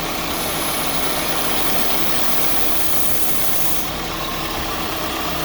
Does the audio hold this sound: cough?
no